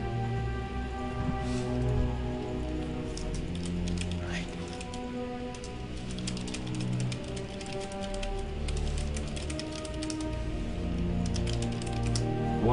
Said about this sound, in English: I can't type as fast as I speak.